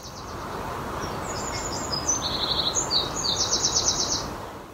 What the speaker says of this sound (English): See if you can hear the birds singing.